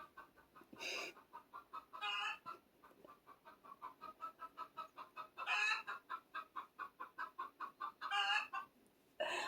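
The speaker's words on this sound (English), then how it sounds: "I feel like that hen is in the house." A hen clucks repeatedly in a steady rhythmic series, with several louder squawking bursts rising above the clucks, close and clear.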